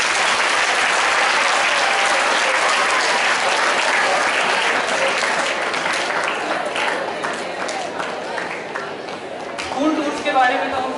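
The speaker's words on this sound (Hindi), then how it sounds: "तो एक बार सब उस कार्यक्रम के लिए ताली बजा दीजिए।" Audience applause at a school Teachers Day celebration, a full, sustained burst of clapping from a large crowd that slowly thins toward the end, where a voice starts speaking over it.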